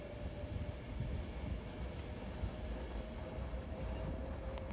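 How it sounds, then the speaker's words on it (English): A London Northwestern Railway train rolls into a platform at Stoke-on-Trent station on the West Coast Main Line, a low steady rumble of wheels and motors with a faint whine, moderately distant and continuous. "The train now arriving into platform 1 is the 1558 London North Western Railway service to Stafford"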